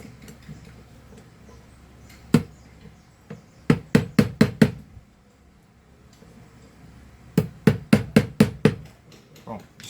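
Hammer taps on parts of a portable Philco vacuum cleaner during repair, a single strike followed by a quick burst of five sharp knocks, a pause, then another run of about six close taps over low room noise.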